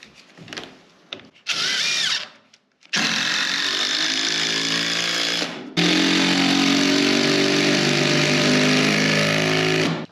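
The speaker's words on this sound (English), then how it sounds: "So let's just start with screwing all these plates down." A power driver screws plates down into marine plywood in a barn, with loud whirring bursts of rising and steady pitch, separated by brief pauses and clicks.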